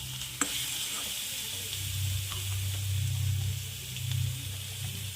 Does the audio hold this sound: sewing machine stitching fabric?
no